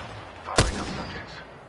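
A single sharp gunshot in the video game Apex Legends rings out once, loud and close, followed by a fading tail over a steady low background.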